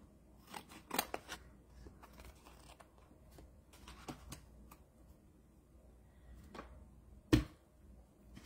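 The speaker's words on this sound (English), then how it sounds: "I am just going to snip that." Scissors snip paper during a flower wreath craft session, giving a series of quiet, sharp, close cuts scattered throughout, with one louder snip near the end.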